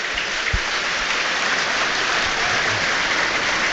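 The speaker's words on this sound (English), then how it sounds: "Applause around the stadium for Brian Wise" Football crowd at Bramall Lane during Sheffield United against Sunderland applauds around the stadium, a broad, continuous hiss of distant clapping from thousands of fans that holds steady throughout.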